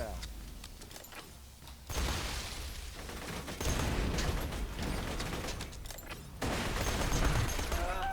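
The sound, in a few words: SMG gunfire in the video game Borderlands 2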